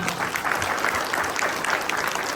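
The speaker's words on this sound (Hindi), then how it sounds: "जोरदार ताली" Applause from an audience at a business opportunity presentation, steady dense clapping throughout, fairly loud and close, with no talking over it.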